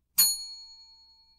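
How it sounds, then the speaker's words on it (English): A quiz show host strikes a single bell: one bright, clear ding that rings out and fades slowly over about a second, alone. "I will employ what I have called the inappropriate bell"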